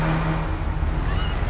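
A car engine revs hard in the racing game Forza Motorsport 6, a loud, steady, close roar held throughout with no talking over it.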